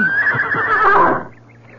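A horse whinnies loudly and close in a radio drama, a long quavering neigh that fades into a quiet low hum.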